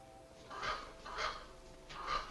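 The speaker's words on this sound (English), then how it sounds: "that crow sounds just like my ringtone" Crow cawing in the 1948 film The Amazing Mr. X, three harsh caws spaced about half a second apart, faint and distant-sounding against a quiet background.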